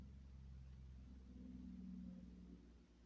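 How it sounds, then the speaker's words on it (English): A big truck on a distant interstate, heard on a quiet snowy day, comes through as a low, steady rumble that swells and fades far off, with no talking. "That was a big truck on the interstate."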